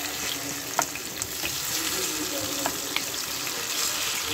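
Chicken frying in a pan for a Hyderabadi chicken korma with green mung, a steady broadband sizzle running throughout with a few soft clicks of the pieces being turned, close and moderately loud, no talk.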